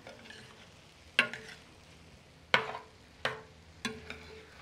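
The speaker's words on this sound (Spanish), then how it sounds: "vamos a revolver bien todo y ya vamos a dejar pues que esté la verdura ya bien fritita" Vegetables sizzle with nopales frying in a pan, a steady soft hiss broken by four sharp scraping clacks as a spoon stirs and knocks against the pan.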